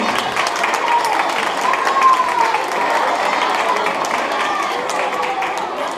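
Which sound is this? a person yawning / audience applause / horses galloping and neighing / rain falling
audience applause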